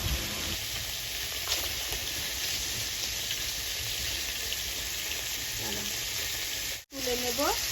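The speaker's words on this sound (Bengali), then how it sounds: "মা সুন্দরভাবে মাছগুলো ভেজে নিচ্ছে" Fish fries in a pan with a continuous close sizzle and crackle, a couple of faint spatula turns, and a brief cut near the end.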